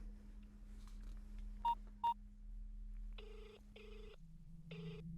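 A telephone number dialed with keypad tones: two short beeps, then a pause before three longer tone bursts over a low steady hum, fairly quiet and with no talk.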